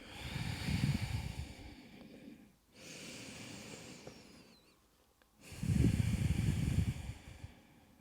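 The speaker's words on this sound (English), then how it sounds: "Breathing deeply here." Deep slow breathing during a bedtime yoga forward fold, three long audible breath cycles with airy inhales and louder, rougher exhales, close and fairly quiet, with no talking.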